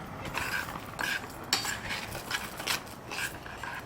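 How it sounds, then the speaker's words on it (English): Rice toasts in a pan at a campsite, stirred with a utensil that makes repeated soft scraping strokes and light metallic clinks over a faint sizzle, fairly quiet and close. "we're going to go in with the rice and start toasting it off"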